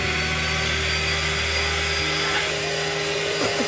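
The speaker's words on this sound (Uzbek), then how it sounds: "Krem tayyorlash uchun sливkani yaxshilab masallaymiz." An electric hand mixer whips cream in a bowl, giving a steady, loud motor whir with a slight pitch change partway through. It runs continuously with no talking.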